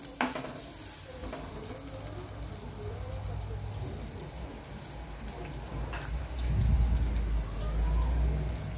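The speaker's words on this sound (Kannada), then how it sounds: "ಸೊ ಆ ಈರುಳ್ಳಿನ ಹೆಚ್ಚಿಬಿಟ್ಟು ನಾವು ಫ್ರೈ ಮಾಡ್ಕೊಳ್ಳೋಣ" Sliced onions fry in hot oil with a steady, moderate sizzle and occasional stirring scrapes, swelling louder near the end; a voice speaks intermittently over it.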